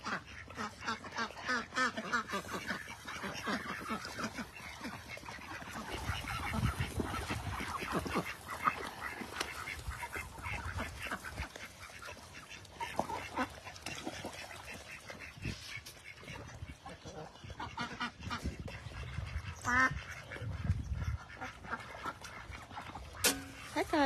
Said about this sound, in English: You guys get to see the ducky ducks.